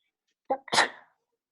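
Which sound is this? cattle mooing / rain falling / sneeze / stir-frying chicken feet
sneeze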